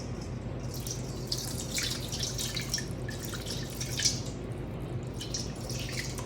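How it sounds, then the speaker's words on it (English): A thin stream of water pours steadily into a bowl, with trickling, splashing patter that stays even and close for several seconds. "now I want to add 375 grams of water"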